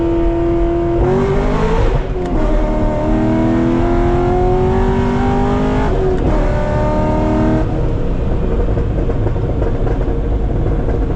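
A built, modified Corvette accelerates hard from a 60 mph roll on snow, its engine note climbing steadily through the gears with loud, continuous revving and brief shift breaks, close and sustained without talk.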